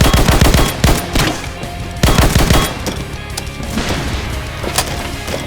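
Gunfire in the horror shooter Slendytubbies, a string of loud close blasts in uneven bursts with dense sharp reports crowding together, then thinning into scattered shots.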